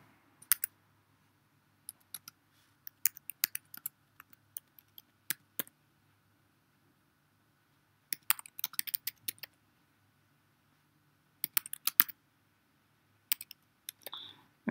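A home address being typed on a computer keyboard into an online form, sparse bursts of light key clicks separated by pauses, close and quiet against a silent background.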